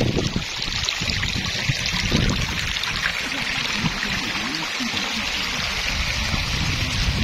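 Rushing water from a waterfall at a grassy picnic spot during rain, a constant broadband wash that stays loud and close throughout with slight low rumbling underneath.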